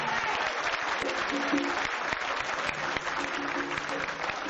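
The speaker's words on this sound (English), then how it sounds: "get your approval and applause about how really great this group is tonight" Sustained applause from a crowd, dense and steady throughout, with a faint tonal hum and some voices underneath.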